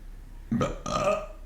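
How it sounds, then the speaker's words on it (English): A short, awkward half burp from a person up close, a low croak that breaks off and then resumes briefly, in a quiet room. "That was like a weird half burp."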